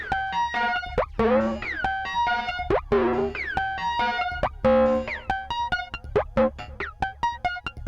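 A RALPS drum module in loop mode, driven by a clock, replays its last eight synthetic drum sounds in a row: a fast, rhythmic run of tonal electronic hits, pitched blips and buzzy strikes, loud and alone.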